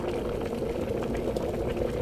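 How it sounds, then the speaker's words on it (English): Raw recording of bubbling liquid used as sound design source material, a dense continuous boil of small pops and gurgles at a steady level with no voices. "So that's just the audio file on its own bubbling."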